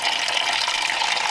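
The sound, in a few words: water draining from flathead engine block into bucket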